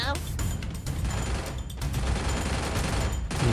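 Rapid gunfire rings out as a player jump-shoots in a shooter video game, with dense bursts of shots broken by brief gaps and a steady, loud clatter.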